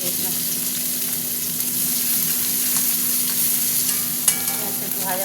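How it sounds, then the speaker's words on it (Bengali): Onions fry with dried red chili in a pan, producing a loud, steady close-up sizzle with occasional stirring scrapes and light clinks of a spoon, continuous throughout with no talking. "পেঁয়াজটা একটু ভাজা ভাজা হোক"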